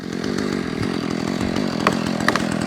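Chainsaw cutting the back cut while felling a tree outdoors, a close, loud, rough buzzing engine with brief bursts and crackles as the wood gives, no voices.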